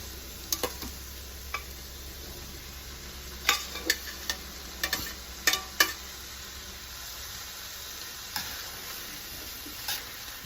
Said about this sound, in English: So now we are going to toss in our noodles.